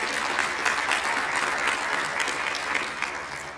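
An audience at a school district State of the Schools address claps steadily in dense, continuous applause, moderately loud, with no voices standing out.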